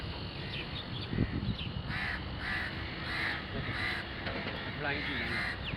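A crow caws repeatedly from a rooftop, a steady series of harsh calls roughly every half second over continuous background noise, with voices talking nearby.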